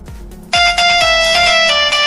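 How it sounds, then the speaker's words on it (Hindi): A loud electronic phone ringtone begins abruptly and keeps ringing with a steady high melodic tone, close and continuous. "किसका फोन आ गया?"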